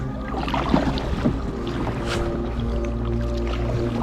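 A fishing kayak paddles on the sea off East Lothian in bumpy water, with steady splashing and rushing water close by and occasional paddle knocks, no voice heard.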